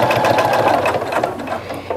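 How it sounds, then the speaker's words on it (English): A sewing machine runs steadily, stitching in the ditch beside the binding of a cornhusk pot holder, its rapid needle clatter loud and close with no one speaking. "you're going to stitch right next to the binding, but not on the binding. So go ahead and begin stitching"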